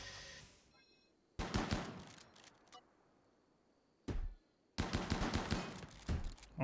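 Gunfire rattles in the RimWorld video game in two loud clustered bursts of rapid shots, split by quiet gaps and a single short blast, with no talking.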